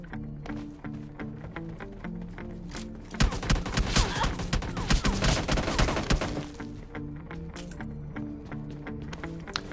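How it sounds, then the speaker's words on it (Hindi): Teammates lay down cover fire in PUBG Mobile Lite, with scattered shots followed by a dense, loud burst of rapid gunfire lasting a few seconds, then thinning back to sporadic distant shots. "इसके पीछे से टीममेट जो कवर फायर देते हैं, और देखो कितना ही गंदा कवर फायर देते हैं"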